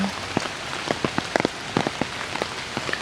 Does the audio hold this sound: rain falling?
yes